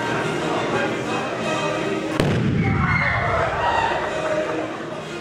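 Fireworks explosions at a school Mole Day show set to the 1812 Overture, a sharp bang followed by rumbling booms and crackling bursts over a dense, loud crowd din.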